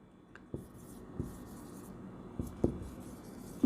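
Chalk tapping and scraping on a classroom board while an accounting journal entry narration is written, with a few sharp knocks between soft strokes, close and moderately quiet, with faint room noise behind.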